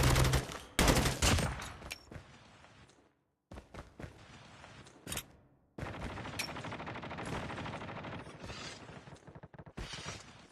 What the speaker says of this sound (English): That shotgun scared me.